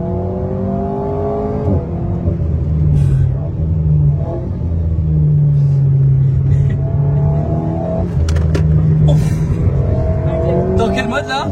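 A car engine pulls and revs up, its pitch rising and falling through several gear changes. Steady road rumble sits underneath, and people talk inside the cabin throughout.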